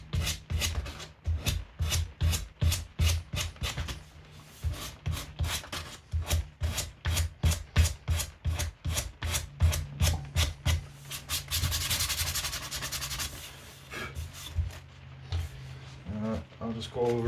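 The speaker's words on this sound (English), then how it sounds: "So sand it smooth." Repeated back-and-forth strokes of sandpaper rub a cricket bat toe guard smooth, in a quick, steady rhythm close by, with a brief denser rasping burst partway through.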